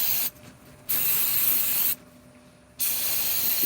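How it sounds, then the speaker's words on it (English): Aerosol brake cleaner sprayed onto car parts during an oil change: two loud, steady hissing bursts, each about a second long, separated by brief pauses, close to the microphone. "Use that brake cleaner, man."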